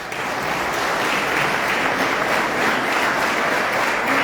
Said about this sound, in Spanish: lo hemos invitado al querido Alberto Farías, por quien pido un aplauso